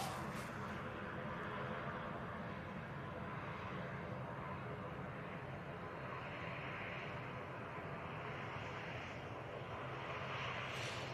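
An Aer Lingus Airbus A320 lines up on runway 05 left at Manchester Airport, its engines giving a low, steady, distant drone that stays even throughout.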